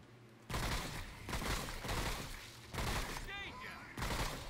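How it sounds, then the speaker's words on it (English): A gun in the game Remnant: From The Ashes fires in several loud, sharp bursts spaced about a second apart, each burst a dense rattle of shots, with a short whirring effect partway through. "This gun is pretty good for range too."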